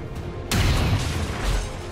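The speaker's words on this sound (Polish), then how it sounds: "Strzał." A gunshot and explosion in the video game XCOM 2 hit suddenly after a quiet half second, then a loud, rumbling boom lingers and slowly fades with no talk over it.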